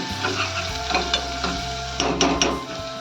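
Asafoetida stirred into fried onion in hot oil for a Maharashtrian toor dal amti, with a loud, steady sizzle close up and repeated scraping of a spoon against the pan in irregular strokes.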